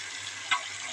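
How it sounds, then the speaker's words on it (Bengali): Marinated beef sizzling in a hot pan, a steady close frying hiss with a brief louder splash of spitting oil in the middle. "মেখে রাখা মাংসগুলো এখন আমি চটচটি ঢেলে দেবো"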